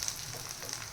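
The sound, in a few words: crispy corn cutlets frying in oil in a pan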